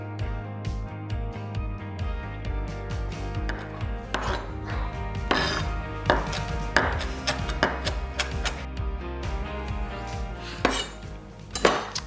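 Close kitchen clatter comes from cheese and herbs being prepared for a carrot, ham and cheese roll while a sponge cake bakes, with dishes, utensils knocking and scraping, and chopping taps over soft background music.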